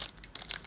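A chocolate cracker wrapper crinkles and rustles in short, close, crisp bursts as it is opened, with no talking.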